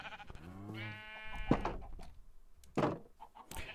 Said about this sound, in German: Da ist wieder ein Schaf